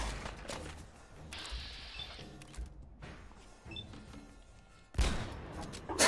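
Gunfire from a weapon in Fallout 4 (Project Mojave mod, the Strip) comes as scattered moderate shots with mechanical clatter between them, and a sharper, louder blast lands near the end.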